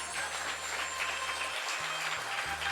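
Scattered clapping from a devotional discourse audience at a Hindu religious gathering, a steady noisy patter held at moderate level under a low droning tone, continuing without a break.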